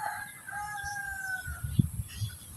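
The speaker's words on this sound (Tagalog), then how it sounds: "Ang gandang klaseng manok." A Black Shamo Aseel rooster gives a faint, distant crow, heard as long drawn-out tones against quiet farmyard background noise.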